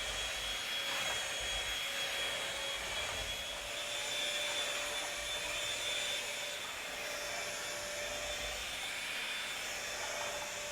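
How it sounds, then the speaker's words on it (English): A vacuum cleaner drones steadily and loudly throughout, a constant whirring motor hum with slight shifts as it moves, no voices. "Feels so good to vacuum"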